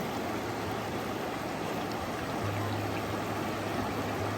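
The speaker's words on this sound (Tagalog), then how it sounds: "Tinatry niyang tumawid, malakas pala ang agos." Strong current of a river flowing steadily, a loud, continuous broadband rush of water close by with no pauses and no voices.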